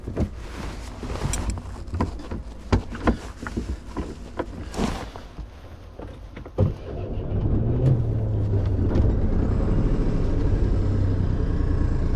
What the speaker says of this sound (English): Let's start warming up the engine.